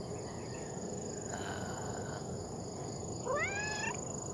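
A wild black cat gives a single rising, drawn-out meow near the end, close and clear over a steady outdoor bed of insect and cricket chirping.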